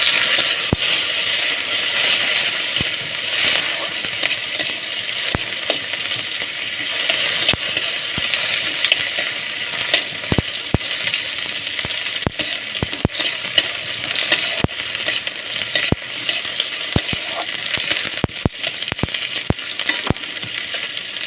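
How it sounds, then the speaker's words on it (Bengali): Chopped tomato frying in a pan with onion and lentils being stirred, a constant hissing sizzle with sharp ticks of the spoon against the pan throughout, close and steady. "আর এই টমেটো কুচি দেবো"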